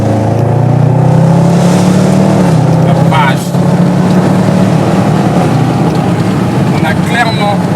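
A 550 hp Range Rover SVR accelerating hard along a straight, its engine a loud, rising drone that holds high and steady from inside the cabin, with brief shifts and road roar; a person talks over it.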